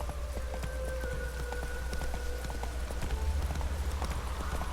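Horse hooves clip-clop steadily in The Witcher 3 as a rider sets off in rainy weather, the regular hoofbeats close and moderately loud over soft ambient game background, with no talking.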